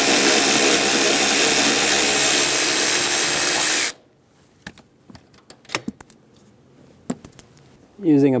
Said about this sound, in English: Using a 14mm socket, remove the bolt.